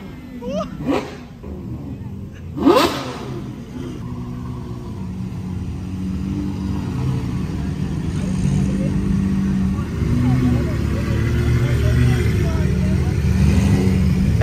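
A vehicle's exhaust rumbles loudly while the engine is revved at a Brazilian car meet. The low roar swells and holds near the microphone, with brief sharp sounds and voices early on.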